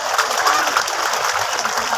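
Crowd applause at an outdoor public gathering of local residents, brief, dense clapping heard at moderate level with a faint murmur of voices and some low rumble beneath.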